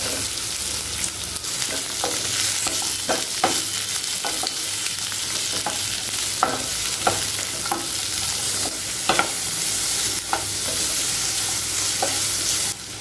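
Three large onions fry in an oil-filled pan for a spicy onion chutney, a loud steady sizzle broken by repeated scraping strokes of a spatula stirring them, close and with no talking.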